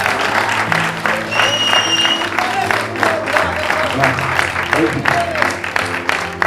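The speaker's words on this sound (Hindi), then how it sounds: "सुनील को एक जबरदस्त तालियां उसको, जबरदस्त, एकदम जोरदार" Loud, continuous applause fills the hall at a book inauguration ceremony, dense clapping from a large audience with some cheering and background voices.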